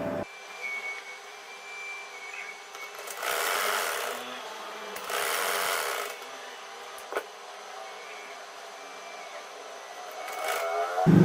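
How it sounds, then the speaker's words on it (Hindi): Sewing machine stitching along the outer edge of a poncha: a low running hum swells into two longer, louder bursts of stitching near the middle, with a quieter motor drone between them and a short rise at the end. "सबसे पहले बाहर वाली साइड पर सिलाई लगाएंगे।"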